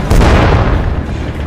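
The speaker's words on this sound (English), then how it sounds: "It then also hits a mine" A mine blast hitting a Humvee during the war in Ukraine, one loud, close, booming burst that fills the sound and rumbles on, with no talk.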